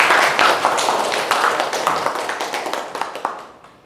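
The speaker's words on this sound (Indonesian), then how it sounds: "Kita tepuk tangan bersama." A small audience at a university teaching session claps together, a burst of close, crisp hand claps that thins and fades over a few seconds.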